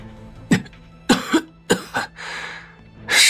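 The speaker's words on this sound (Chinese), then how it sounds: "黑影逐渐凝形，忍不住弯腰咳嗽" A person coughs three times in quick succession, each cough sharp and close, followed by a raspy breathy exhale. Nothing else is heard.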